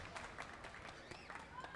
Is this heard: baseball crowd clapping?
yes